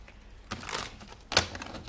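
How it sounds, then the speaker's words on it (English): A deck of tarot cards is shuffled close by, giving two crisp riffling bursts separated by a quiet pause, with no voices. "So I'm just going to shuffle and see what is Pile 1's intentions"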